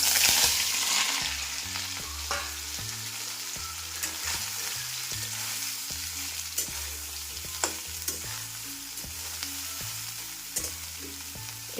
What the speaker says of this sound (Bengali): এরপর আমি সয়াবিনগুলো ভেজে নেব